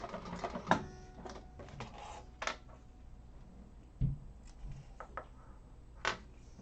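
A home sewing machine test-stitches with a newly fitted bobbin to check thread tension, giving faint mechanical whirring with a few sharp clicks spread through a quiet room.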